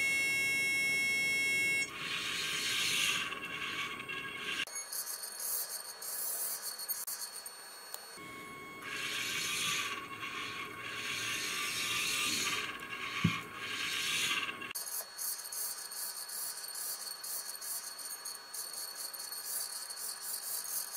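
An AC motor drives a servo-controlled solid-state stable platform mechanism, producing a mechanical whirring and ratcheting with high electronic tones that switch on and off in blocks, plus one sharp click partway through, with no voices.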